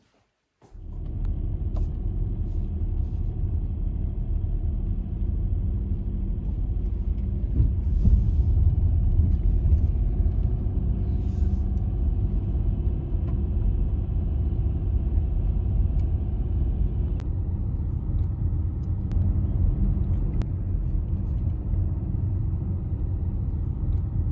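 A car drives through the Carpathian Mountains, a steady low engine and road rumble heard from inside the cabin, continuous and fairly loud with occasional faint clicks and bumps.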